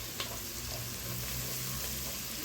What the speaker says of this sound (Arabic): هبدأ بقى اضيف البهارات بتاعتنا اللي هو الكزبره والكمون والفلفل الاسمر